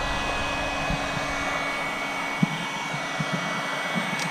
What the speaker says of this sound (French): il faut chauffer un peu, et en même temps qu'on chauffe on tire